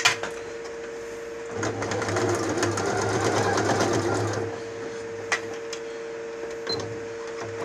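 Sewing machine running a seam on the other side of a fabric makeup case, a steady mechanical whir for about three seconds between quiet pauses with small handling clicks.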